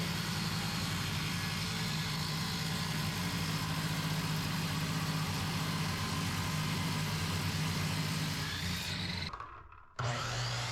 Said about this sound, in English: So I'll put it through the table saw sideways to shave off a little bit of that height.